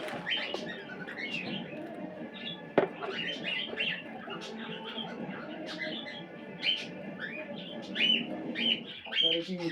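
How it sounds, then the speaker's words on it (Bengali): Many birds call and chirp inside a home, with cooing pigeon- or dove-like sounds and scattered tweets overlapping steadily, near and moderately loud, with a sharp knock partway through. "পাখির ডাক ভর্তি।"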